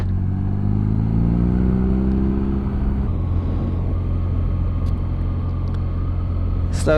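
A 2021 BMW R nineT motorcycle rumbles steadily along back roads, its engine note rising through a rev sweep before settling into a constant, close drone under continuous wind noise.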